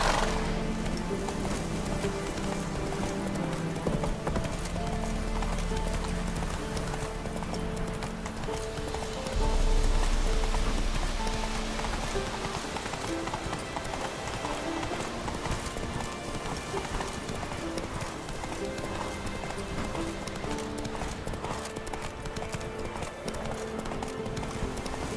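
Steady clip-clop of the horse Roach's hooves in The Witcher 3, a continuous trotting rhythm throughout, with soft rain-like patter and game ambience behind it.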